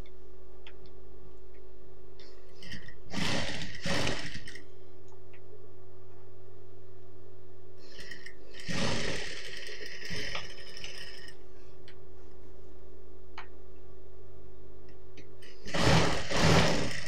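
A sewing machine stitches the shoulder seam of a churidar top in three separate loud bursts of rapid mechanical running, with quiet pauses between them.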